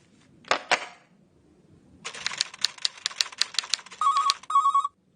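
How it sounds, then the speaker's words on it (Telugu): A telephone rings in a comedy sketch: two sharp clicks, then a rapid run of ticking taps and a short trilling electronic ring near the end, with no talk. "ఏంటి సార్, మన్మథరావు గారు ఎన్నిసార్లు ఫోన్ చేసినా లేడని చెప్పిస్తున్నారు."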